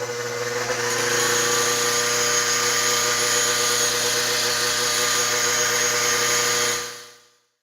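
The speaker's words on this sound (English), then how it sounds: "chuck this into an electric drill and grind it down on a bench grinder" A Honda CB750K shift drum detent part spun in an electric drill and ground against a bench grinder makes a loud, steady, high grinding whine with a motor hum. It runs unbroken for about six seconds, then quickly winds down.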